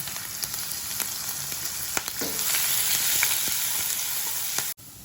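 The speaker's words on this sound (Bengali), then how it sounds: "তেলটা গরম হয়ে গিয়েছে, একটু জিরে দিলাম, আদা কুচি, কাঁচা লঙ্কা কুচি," Cumin seeds, chopped ginger and green chili hit hot oil for a bitter gourd gravy, setting off a steady bright sizzle that grows a little louder midway, with scattered small pops and spatters.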